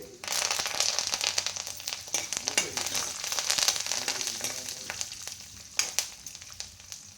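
Small onions and curry leaves fry in hot oil in a pan, a steady close sizzle with crackling pops and occasional stirring scrapes throughout, no talking.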